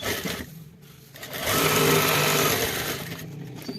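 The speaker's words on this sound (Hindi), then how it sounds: "ये हम सिलाई करना शुरू करेंगे।" Sewing machine stitching a back pocket onto trousers, a close mechanical whir that starts, pauses briefly, then runs at full speed in a steady sustained burst before easing off.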